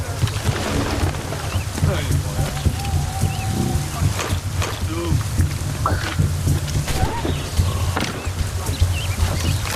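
Rain patters steadily under a low rumbling thunderstorm in the video game Assassin's Creed Rogue, with occasional animal cries and scattered sharp noises in the background.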